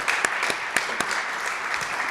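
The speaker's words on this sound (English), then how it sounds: "let's give them a round of applause" Applause from an audience at a business marketing event, steady dense clapping with a few sharper claps standing out, continuous throughout.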